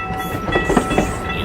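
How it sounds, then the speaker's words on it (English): A cartoon train rolling past a railway crossing, a steady rumble with rhythmic clickety-clack of wheels over rail joints and a faint whistle tone, close and unaccompanied by talk. "We will wait for the train to pass."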